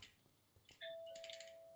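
A single electronic doorbell chime rings out clearly, a bright tone that holds and fades against a quiet background.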